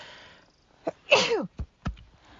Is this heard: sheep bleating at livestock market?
no